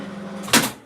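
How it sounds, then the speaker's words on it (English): A microwave oven door slams shut once, a sharp near thud over a steady low kitchen hum while a Christmas tree cake is being made. "It's probably every time I slam the door."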